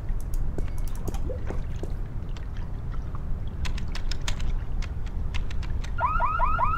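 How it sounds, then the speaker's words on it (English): An alarm in The Longest Journey video game sounds over a dense, steady game soundscape, with scattered clicks and ticks and a repeating warbling tone rising near the end. "The cheeky jackal set the alarm off again."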